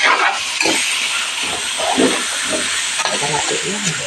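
Sautéed mixed vegetables are stirred in a hot pan, with a constant close sizzle and hiss of frying broken by repeated scraping strokes of the utensil.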